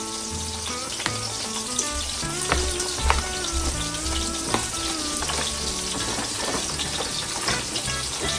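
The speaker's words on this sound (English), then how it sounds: "It does come out with a different texture when you pan fry it." Chicken pan-frying with a steady, loud, close sizzle and crackle, dotted with small pops and occasional stirring scrapes throughout, without any voices.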